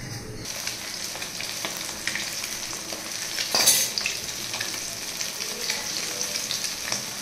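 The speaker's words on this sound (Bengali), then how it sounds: "আর পাশে মাছটা ভাজবো" Fish frying in a pan gives a steady close sizzle with a brief louder burst of crackle midway, no voices over it.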